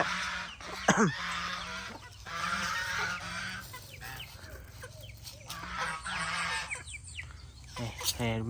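Chickens and a rooster on a farm at morning feeding time, clucking and calling in bursts near and far, with someone talking over them.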